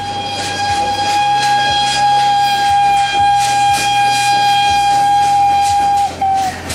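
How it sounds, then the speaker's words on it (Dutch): At a steam parade in Belgium, a steam train's shrill whistle blows continuously as it rumbles past the crowd at full speed, with rhythmic clatter of wheels over rail joints underneath. "op het einde van de stoomparade werd op de volle snelheid fluitend langs het publiek gereden"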